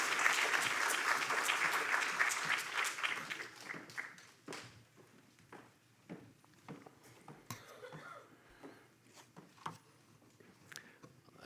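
A lecture audience applauds to welcome a speaker on Al-Andalus architectural decoration. The clapping is loud at first, fades after about four seconds, and scattered faint taps and rustles follow.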